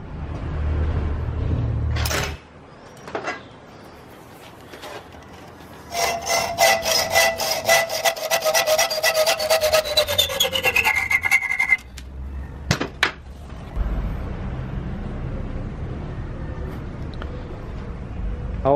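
A metal bolt is cut on its unthreaded part about 2.5 centimetres in, giving a loud, steady rasping, ringing cut that lasts several seconds with a slowly falling tone, framed by knocks and handling noises.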